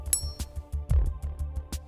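A forged golf iron that is not grain flow forged, struck repeatedly in a quick irregular series of short clinking metallic hits, close and moderate in level over a low background hum.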